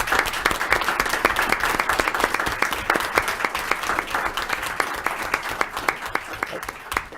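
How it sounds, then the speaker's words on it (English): A room at a city commission meeting breaks into sustained applause for the fire department, many hands clapping densely and steadily at close range, fading slightly toward the end. "If you guys can stand up, I'd like to give you a round of applause."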